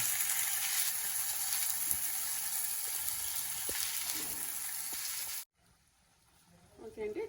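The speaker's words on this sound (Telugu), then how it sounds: "ఇప్పుడు టమోటా పేస్ట్ కూడా వేసేస్తాను నేను." Tomato paste sizzles hard with fried onions in a pan for a cauliflower kurma, a steady, dense hiss that runs for about five seconds and then cuts off sharply into near quiet.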